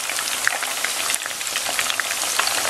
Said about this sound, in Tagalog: tutuloy lang po natin yung ganitong pagpiprito natin o pag-fry natin dito sa ating fried chicken